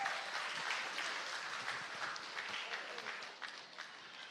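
Audience at an annual autism conference applauding a panel, a steady wash of many hands clapping at moderate distance, fairly soft and tapering slightly toward the end.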